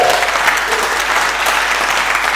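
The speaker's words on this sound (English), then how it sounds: "can I have a round of applause for Steve, who's been comparing, please" Audience applause at a spoken word event, steady loud clapping from a full room that continues throughout without pause.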